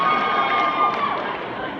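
An audience at a convention panel at NashCon 2017 cheers and shouts in a sustained, fairly loud crowd roar across the whole moment.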